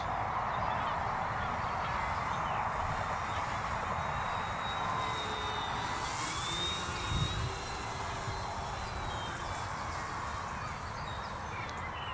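An OMP-Hobby Bighorn 1.25 m RC model plane flies past over an open field. Its faint, thin motor whine rises and fades against steady outdoor wind noise.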